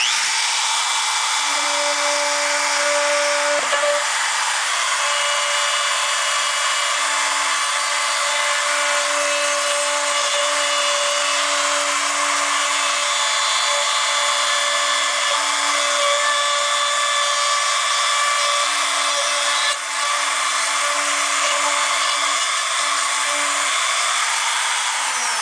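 A power tool cuts a Dodge Ram truck cap rail, a loud steady whining grind that runs continuously at close range with no talk.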